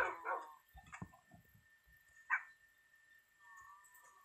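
Dogs in the video game Minecraft give a few short, sharp barks and yips near the start and again midway, fairly close against a quiet background.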